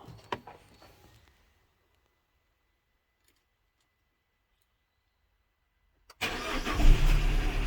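A Peugeot 207 CC engine, run with a wire disconnected, cranks and catches after a long quiet stretch, then runs loudly and steadily close by.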